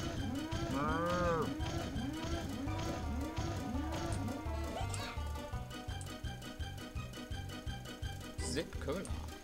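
Cows moo in a South Park video game, with a long, loud low call followed by a quick run of rhythmic repeated moos and pulses running steadily to the end.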